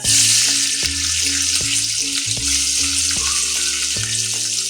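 Onion, mustard seeds and cumin hitting hot oil with melted butter for tawa pulao, a loud bright sizzle that stays strong and steady, with a low hum underneath.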